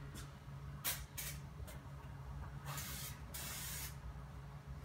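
A spray gun lays dust coats of 2K paint mixed with hardener on a 2008 Mercedes Sprinter: several sharp hissing bursts of varying length, some short and some long, close by over a quiet room.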